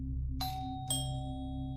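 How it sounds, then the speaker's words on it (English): A doorbell chimes twice at a home across the street from a neighbor's house, two bright ringing tones about half a second apart, each sustaining and slowly fading over a steady low hum. "rang the doorbell"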